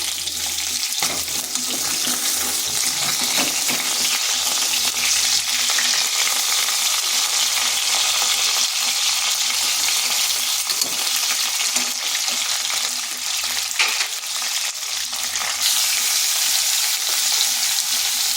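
Potatoes and plantains frying in hot oil, a continuous loud hissing sizzle with crackle that holds steady throughout, close up.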